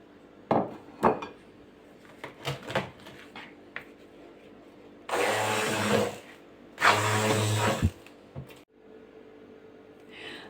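Two loud bursts of a blender whirring, mixing cheese and butter, each about a second or two, between scattered clinks and knocks of kitchen utensils.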